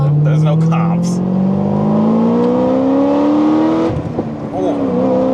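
A Corvette ZR1 accelerates hard in second gear, its engine note climbing steadily and loudly from inside the cabin before a gear change near the end, with voices talking over it.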